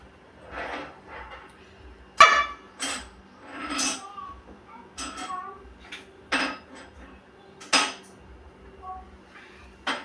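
Dishes and cutlery clatter in bursts as a home kitchen is tidied after cooking, sharp clinks and knocks spaced irregularly with quieter rummaging between, close to the microphone and mostly without talk.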